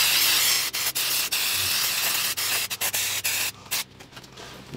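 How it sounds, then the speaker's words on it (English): Steady close hiss of contact cleaner sprayed into a computer power supply, broken by short pauses, then giving way to lighter brushing and rubbing of dust from the unit near the end. "Using a contact cleaner, we'll use a little brush as well, and we'll clean it and brush it all."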